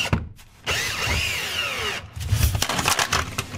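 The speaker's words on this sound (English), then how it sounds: "I'm just going to go ahead and finish that off with a larger bit." Power drill widening a pilot hole with a larger bit during a hydraulic handbrake install, a close whining spin that bites and grinds through the material, with a brief pause and then more rough, uneven cutting.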